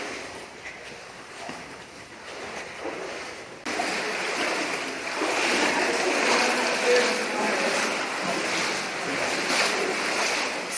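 Water flows through a cave passage in Smith Hollow Cave with a steady, rushing broadband wash that grows fuller and louder partway through, continuous and close by.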